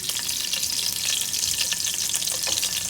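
Cut green chilies frying in a pan for tomato rice, giving a steady, close, crackling sizzle with light stirring scrapes throughout.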